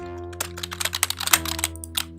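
Keys clatter on a computer keyboard in quick, uneven bursts of close taps while crafting amounts are entered in a base-building game, with a steady hum underneath.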